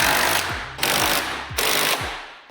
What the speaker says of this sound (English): Now I get to tighten the bumper, first with the impact wrench.